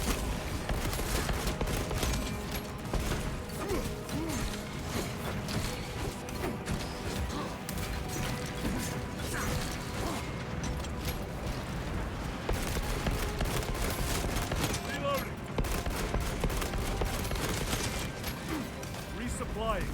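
Scout rifle gunfire in the video game Space Marine 2 as a dense, continuous barrage of loud shots, clanks and impacts layered with other battle noise, with a player talking over it.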